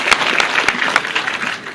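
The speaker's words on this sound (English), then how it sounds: "He likes a round of applause." A crowd applauds at the 2013 Langston University scholarship gala as major donors are recognized, with dense, steady clapping filling the room and a few sharper, louder claps standing out near the listener throughout.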